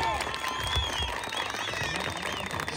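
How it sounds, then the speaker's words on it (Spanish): An audience claps and cheers at a tournament final awards ceremony in Tecolutla, a brief, moderately faint burst of crowd applause with a few whistles mixed in. "venga fuerte el aplauso"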